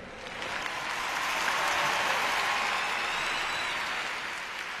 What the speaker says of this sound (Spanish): dadles ese tremendísimo aplauso que se merecen a nuestros patinadores